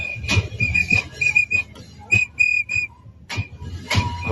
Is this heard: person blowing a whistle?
yes